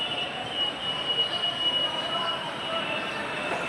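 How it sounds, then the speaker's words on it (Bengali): A train rolls into a platform at Sealdah station, Kolkata, with a steady rumble and a high, sustained wheel squeal, fairly loud and continuous throughout. "আমাদের ট্রেনটা একটু লেটই করে দিল আমাদের শিয়ালদা প্ল্যাটফর্মে ঢুকতে"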